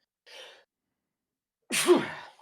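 A single sharp allergy sneeze bursts out close by, preceded by a short sharp inhale a moment earlier, with silence between.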